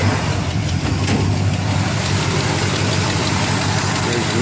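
A 1962 Chevrolet Impala two-door hardtop with a 350 engine idles steadily just after starting, a loud, even low rumble with a faint rhythmic pulse, close by and alone.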